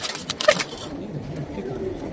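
Pigeons of the khore kind coo in a loft, with several soft bird calls bunched together early on, followed by a quieter stretch of low ambient murmur.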